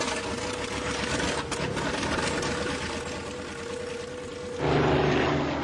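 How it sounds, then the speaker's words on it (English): Propeller aircraft taking off from a Fort Lauderdale runway in the afternoon, a steady loud engine drone with a low hum that swells louder near the end, with no talking. "We take off from the same Fort Lauderdale runway as Flight 19, and at the same time of day"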